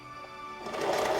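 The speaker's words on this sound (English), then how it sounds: "I'm going to hand roll the spinner, the wheel on the back, move back, because that's how you create a knot when you're sewing." A sewing machine whose hand-wheel is turned by hand to tie a knot, a faint low mechanical whirr that grows slightly louder over a second.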